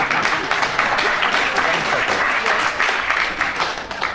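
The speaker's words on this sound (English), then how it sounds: "I think from the applause that the audience agrees with you." Studio audience applause on a BBC radio panel game show, a loud, full burst of clapping from a crowd close to the microphones, steady throughout with faint voices underneath.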